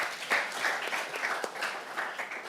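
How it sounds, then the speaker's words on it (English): Audience applause at an academic public-private partnership forum in Rwanda, a moderate spread of hand clapping from a conference hall crowd lasting a couple of seconds at steady level. "We can clap for him again."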